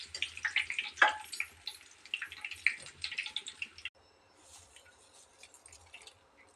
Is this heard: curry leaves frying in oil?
yes